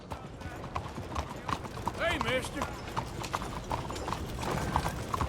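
Horse hooves clip-clop steadily in Red Dead Redemption II as a rider moves along, with a brief whinny partway through and game voices speaking over the hoofbeats.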